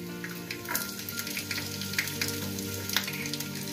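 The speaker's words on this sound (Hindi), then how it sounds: "तेल गर्म हो चुका है," Garlic sizzles in hot oil in a pan, a steady crackling fry with small pops and spits, close and continuous with no voices.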